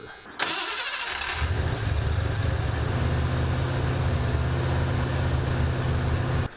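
A Ford Mustang engine starts with a brief crank, catches and settles into a steady, loud idle that runs close to the microphone for several seconds.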